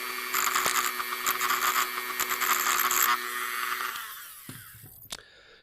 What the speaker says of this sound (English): Just wanted to get those burrs off of there if possible.